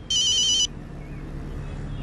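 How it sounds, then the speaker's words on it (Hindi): A phone rings with a short burst of bright electronic ringtone tones as a call comes in from the caller's mother, loud and close, then stops abruptly, leaving only quiet room noise. "ये मम्मी का फोन से। जल्दी उठा, कोई इंपॉर्टेंट बात होगी शायद।"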